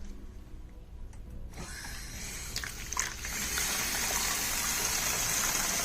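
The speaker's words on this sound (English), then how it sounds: "if I'm filling the tank with water" Water gushes steadily into a tank, a broad rushing hiss that starts softer and swells louder after a few seconds, continuing without voices.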